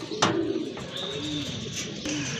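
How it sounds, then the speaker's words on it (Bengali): Iranian Persian pigeons cooing close by in a low, soft rolling murmur, with a few brief sharper sounds breaking in and no talk over them. "এটা হচ্ছে আপনার ইরানি পার্সিয়ান কবুতর"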